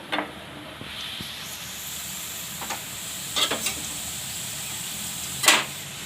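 Potatoes fry in hot oil with a soft continuous sizzle and hiss, and occasional stirring clinks and scrapes break through the steady background.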